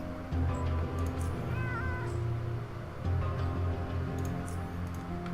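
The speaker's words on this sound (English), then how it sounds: "That cat sounds really weird." A cat in the video game UnderRail meows in a strange, warbling tone over a constant droning hum and ambient background, with the cry standing out briefly mid-way.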